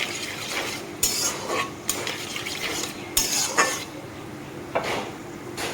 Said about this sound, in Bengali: আর দিয়ে দিব এখানে কিছুটা গোটা গরম মশলা এলাচ দারচিনি তো হালকা একটু ভেজে সেন্ড করে নিব